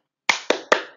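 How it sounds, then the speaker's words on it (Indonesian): Three sharp hand claps in quick succession, close and crisp, each ringing briefly before the next, with silence before the first. "Yuk kita tepuk accounting dulu yuk."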